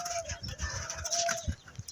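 Chickens and turkeys on a farm that sells fresh produce and eggs, giving scattered bird calls and clucks at close range over a constant outdoor background.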